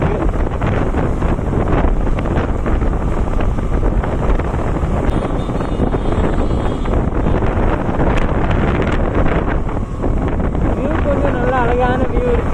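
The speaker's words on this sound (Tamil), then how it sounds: "காற்று ரொம்ப ஓவராக இருக்குது." Strong wind buffets the microphone outdoors in rainy weather by a scenic view, a continuous loud roaring rumble that masks everything else, with a voice faintly audible underneath.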